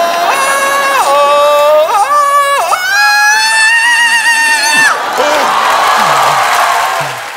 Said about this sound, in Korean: 함성 발사!